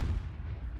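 A grenade detonates in Call of Duty during an esports match: a single short, heavy low boom with a rumbling tail, heard alone.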